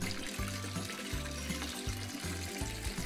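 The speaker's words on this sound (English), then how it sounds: "I'll start the water running." Bath water running from a tap in a family bathroom at bath time, a continuous gurgling pour with bubbly splashing tones, steady and fairly close, with no talk over it.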